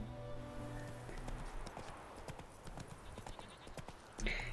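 A horse's hooves clip-clop steadily at a trot along a road in The Witcher 3, close and rhythmic, with a faint whinny near the end and ambient wind underneath.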